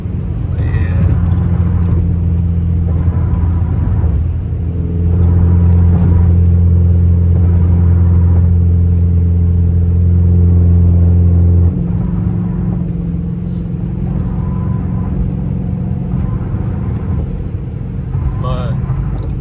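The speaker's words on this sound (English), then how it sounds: "I don't know if I can hear the inside drone with the exhaust and everything, but that sounds loud to me." Steady low exhaust drone heard from inside a car, a constant deep hum that holds loud and even for most of the stretch, then eases slightly, with some talking mixed in.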